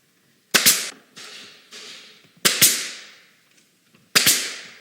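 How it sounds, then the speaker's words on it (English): A nail gun drives 1¼-inch brads into plywood panels with three sharp, loud pneumatic bangs spread over a few seconds, and two softer thuds fall between them. "we've got some 1¼ brads here that we're just going to shoot a few of them in"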